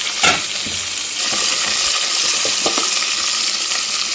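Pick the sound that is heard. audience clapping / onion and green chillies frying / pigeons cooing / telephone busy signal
onion and green chillies frying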